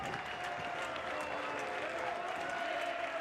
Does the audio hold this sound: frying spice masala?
no